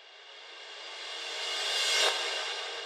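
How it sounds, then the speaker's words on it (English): Reverse cymbal crash with reverb, used as a house music transition in FL Studio, a wash of hiss swelling gradually for almost three seconds, peaking near the end and then cutting off abruptly. "So it's just like a reverse cymbal crash with some reverb on it"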